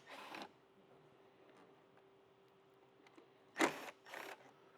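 Bolts being removed from a factory car amplifier mount, a few short mechanical clicks and ratcheting bursts separated by quiet pauses, close and faint.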